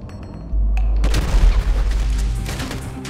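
A grenade explosion in the video game Grand Theft Auto V, a heavy deep boom with rumbling rolling aftermath and scattered crackling gunfire, loud and close.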